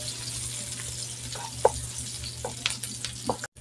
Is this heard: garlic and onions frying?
yes